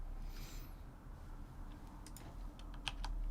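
Computer keyboard typing right beside the microphone while playing Timberborn, a quick, uneven run of close, crisp key clicks and taps over a low background hum.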